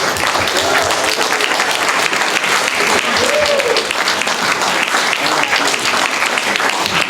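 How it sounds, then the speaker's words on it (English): A seminar audience applauds a guest who has just stepped off the stage, dense sustained clapping from a roomful of people, loud and steady for the whole stretch, with a few voices and cheers rising briefly through it. "Let's give Ed a round of applause."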